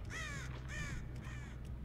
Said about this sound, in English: Damn crows.